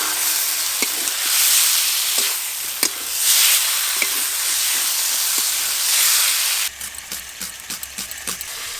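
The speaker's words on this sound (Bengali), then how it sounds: "ভেজে রাখা আলু আর বেগুন দিয়ে আর একটু ভালো করে কষবো" Spice paste being sautéed with fried potato and eggplant for a small-fish curry, a steady loud sizzle and hiss with scattered clicks of stirring, the frying thinning out toward the end into sparser, quieter scrapes.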